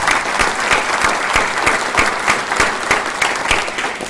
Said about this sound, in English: we would like to do that with a hearty round of applause